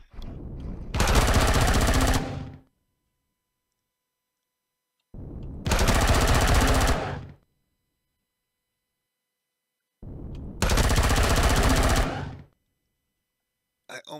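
Automatic gunfire in Empyrion Galactic Survival, three loud sustained bursts of rapid shots, each about two seconds long, separated by silent gaps.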